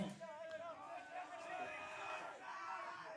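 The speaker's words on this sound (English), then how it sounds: "Crowd now getting rowdy." Crowd at a men's open club softball national grand final cheering, whooping and shouting in a loud sustained roar, with a commentator's voice and chatter mixed in.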